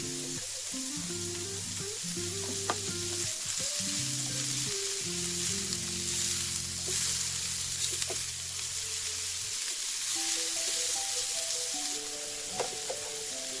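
Onions frying in a pan for a Chinese-style paper roll filling, a steady broadband sizzle with scattered stirring scrapes, close and moderately loud, while tonal background music plays underneath throughout.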